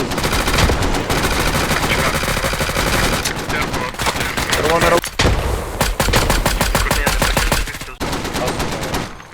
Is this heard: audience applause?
no